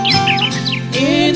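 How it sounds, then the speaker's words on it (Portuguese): Small birds chirp and warble in short, bright, repeated phrases at dawn in a rural backcountry setting, fairly close and clear, with a sustained musical tone running beneath the calls. "já posso ouvir os passarinhos a cantar"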